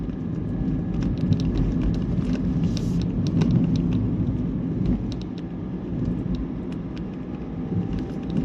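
A car is driving along, heard from inside as a steady low rumble of road and engine noise with faint rattles and no talking.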